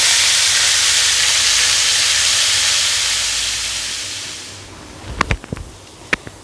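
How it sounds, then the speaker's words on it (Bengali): Potatoes and bottle gourd peels frying in oil, a loud close hiss that gradually fades, followed by a few sharp clinks near the end. "এবার এটা ভালো করে নেড়ে লাল লাল করে ভাজবো।"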